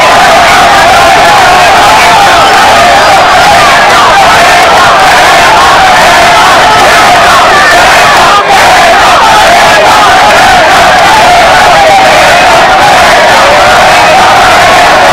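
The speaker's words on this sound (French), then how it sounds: "Félix Antoine Tshisekedi Tshilombo, très ovationné, a cédé à la liesse populaire sur fond d'un banc de foule." A huge outdoor crowd roars, cheers and whoops in a continuous loud ovation welcoming President Félix Tshisekedi, the dense noise unbroken throughout.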